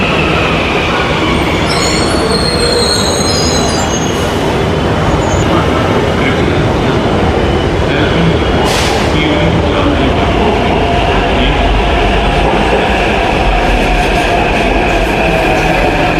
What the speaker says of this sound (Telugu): నేనైతే అమీర్పేట్ మెట్రో స్టేషన్ దగ్గరికి వచ్చిన